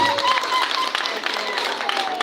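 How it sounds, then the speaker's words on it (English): A crowd at a school results event applauds in dense, steady clapping, mid-distance and fairly loud, with a voice talking over it. "Can we clap for them?"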